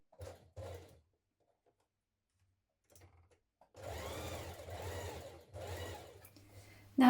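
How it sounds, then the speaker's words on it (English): A domestic sewing machine stitches a frill dress in short bursts: two brief runs, a pause, a quick run near three seconds, then a longer steady whirring run that stops and starts again, close and clear. "now we're going to stitch it in place"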